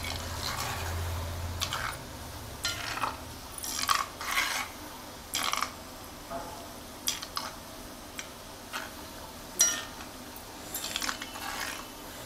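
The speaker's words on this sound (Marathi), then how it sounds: "आता असे हे आरतून परतून ढवळून घ्यायचे, म्हणजे आपली शंकरपाळी चारी बाजून शेकाक वयत." Layered maida shankarpali frying in oil over a low flame are stirred and turned, with repeated close spoon scrapes and clinks over a steady, continuous frying hiss.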